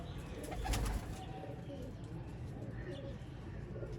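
Sialkoti rooftop pigeons coo softly in the background, low and continuous, with a brief louder stretch near the start amid general outdoor noise.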